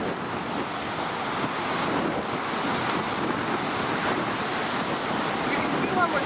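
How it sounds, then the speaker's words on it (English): Storm surf driven by Tropical Storm Lee roars against the shore in a continuous, loud wash, with heavy wind buffeting the microphone the whole time and no clear voices. "The waves don't even crash here usually."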